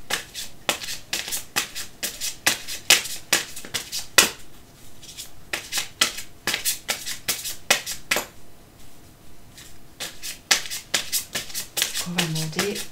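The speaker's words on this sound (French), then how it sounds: "Toujours le petit rituel que je dis enfin, pendant le brassage des cartes." Oracle cards being shuffled by hand in a steady stream of crisp riffling flicks over about thirteen seconds, close and fairly loud, with no voice.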